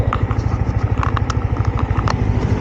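A modified Yamaha MT-15 motorcycle engine runs close up after an upgrade, with a rapid, steady pulsing beat and sharp crackling pops on top, loud and alone without talk.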